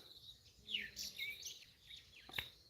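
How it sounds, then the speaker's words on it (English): Birds chirping outdoors with insects, heard as a few faint, scattered chirps and short calls over a quiet background. "I heard 3 bugs and 2 birds."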